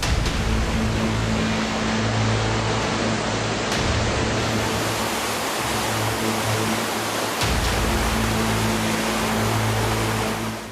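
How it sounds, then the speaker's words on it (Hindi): A large waterfall, water plunging from roughly 150 feet, gives a dense, steady roar that fills the whole stretch without a break, with a low engine-like hum pulsing underneath at intervals. "ये तो बहुत बड़ा झरना था।"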